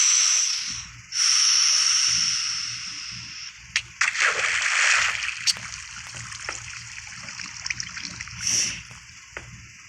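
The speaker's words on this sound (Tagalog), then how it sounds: "So, maglalagay ako ng tubig." Water being placed in Minecraft while building an XP farm: splashy, hissing flowing-water game sounds that rise, fade and return over several seconds, with occasional sharp clicks.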